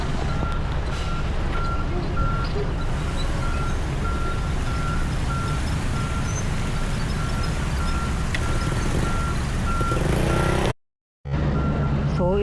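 Dense road traffic grinds past a flyover construction site, a steady near roar of trucks and cars with a repeating reversing beep throughout and a brief dropout near the end.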